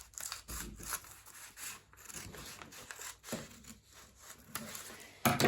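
Scissors cutting fabric for a circle dress, faint close snipping and rustling with soft scraping strokes and a sharper crinkle at the end.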